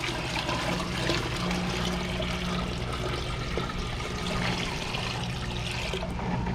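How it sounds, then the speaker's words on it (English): Salt water pours into a home-built bait live well tank, a steady, full splashing stream close by that continues without pause, ending with a slight change in tone, with no voices over it. "So I'm going to add a little bit of salt water."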